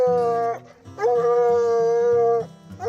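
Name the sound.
hounds howling while hunting raccoons at night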